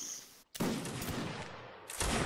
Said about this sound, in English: let's take pot shots at the bridge